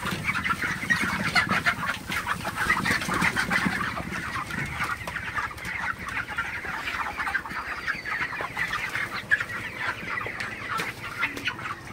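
Broiler chickens on a poultry farm cluck steadily in a dense, continuous flock chorus, many birds calling over one another at close range with no voices present.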